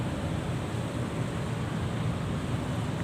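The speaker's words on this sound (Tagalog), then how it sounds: "Ayan, lumakas yung alon." Rushing, churning water of the Marikina River under Marcos Bridge, with the waves strengthening during flooding; a steady, loud, broadband roar with wind buffeting the microphone, no pauses and no voices.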